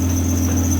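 A worn serpentine belt in the engine bay of a budget rally car squeals steadily and shrilly, a continuous high whine over a low engine hum.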